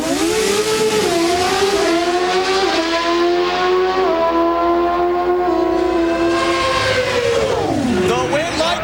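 Pro Stock drag racing motorcycles at the 2005 NHRA Gatornationals in Gainesville scream loudly down the strip, high engines rising and shifting through gears for several seconds, with announcer talk mixed in.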